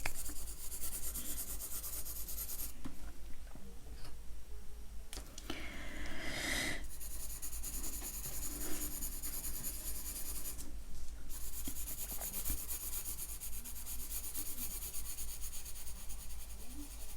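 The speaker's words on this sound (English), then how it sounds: "These colouring pencils are okay." Cheap colouring pencils scratch and rub on paper in close, quiet strokes with brief pauses between bursts, in a soft ASMR setting.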